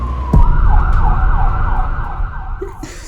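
A loud, close ambulance siren wails in a rising and falling tone for about three seconds over low traffic rumble.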